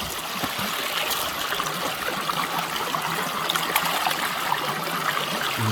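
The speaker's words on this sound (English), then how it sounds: "And you just rinse them out." Water trickles and splashes steadily as grass roots are rinsed out in a Keene A-51 gold sluice box at a West Virginia stream, a close, constant wash with no talking.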